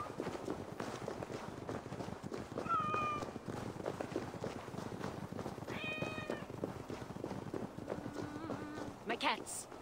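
Cats meow several times in Assassin's Creed Valhalla, short rising cries scattered over steady game ambience, with hoofbeats and footsteps and someone talking throughout.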